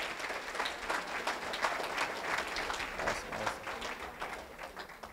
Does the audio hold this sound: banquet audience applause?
yes